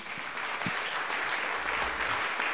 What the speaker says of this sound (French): Des applaudissements nourris.